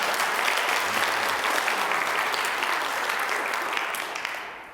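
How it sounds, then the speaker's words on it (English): Steady, dense applause from a pageant audience at a university Native women's competition fills the room, holding at an even level before tapering off at the end. "let's give them one more round of applause just for that in itself"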